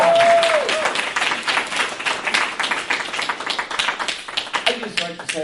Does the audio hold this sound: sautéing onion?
no